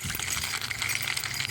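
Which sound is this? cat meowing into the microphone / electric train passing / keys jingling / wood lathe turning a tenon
keys jingling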